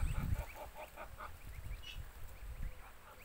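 Goose goslings wander about, giving repeated short, thin peeping calls in quick bursts over a low rumbling background, fairly close and moderately loud throughout.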